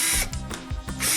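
A power drill bores pilot holes for screws during an interior door replacement, loud whining bursts with a short ratcheting stutter between them, close and with no talking.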